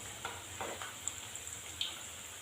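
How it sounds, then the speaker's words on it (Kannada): Cabbage gobi manchurian pieces fry in hot oil, a faint, steady sizzle with a few soft crackles and light stirring ticks throughout. "ಕಲರ್ ಸ್ವಲ್ಪ ಚೇಂಜ್ ಆಗೋವರೆಗೂ ಫ್ರೈ ಮಾಡಬೇಕು ರೀ"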